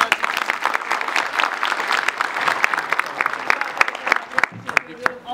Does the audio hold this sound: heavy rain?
no